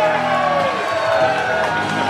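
A wrestling crowd cheers and roars loudly at a Maine State Posse versus InZanely Rude match, a dense sustained swell of voices under a commentator talking.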